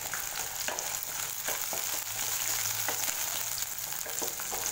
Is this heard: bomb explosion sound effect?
no